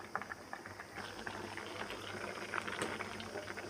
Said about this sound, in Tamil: காய் வந்து நல்லா கொதித்து வந்துக்கிட்டு இருக்கு